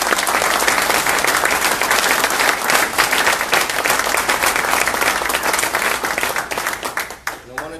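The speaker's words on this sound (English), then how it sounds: "we've also owed a round of applause to Mr. Austin Sipple" Sustained round of applause from an audience honoring a finance team member, dense steady clapping filling the room before tapering off at the end, with some voices mixed in.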